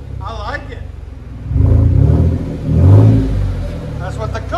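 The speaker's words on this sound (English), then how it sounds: "That's what the Kooks exhaust sounds like." A Chevy Silverado pickup with a 4.3L V6 and Kooks exhaust revs in two loud, deep surges that swell and fall back to a rumbling idle, close up, with a voice briefly heard at the start.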